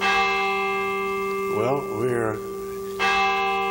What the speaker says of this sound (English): We hear our beautiful church bells today.